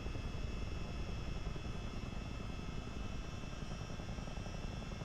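A Chinook tandem counter-rotating rotor helicopter in Microsoft Flight Simulator, producing a faint, steady droning rumble of rotors and engines throughout, with no other sounds.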